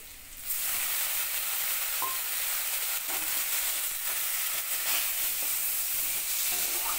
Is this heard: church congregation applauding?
no